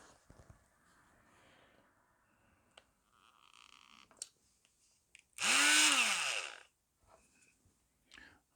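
A power drill used on a Mayflower model build gives one short, loud whirring burst of about a second and a half that spins up and winds down, with quiet handling noises before and after.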